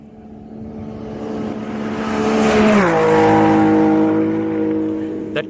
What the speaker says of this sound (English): That car that has just passed, Patrick Sandel, 195 kph, 195 kph.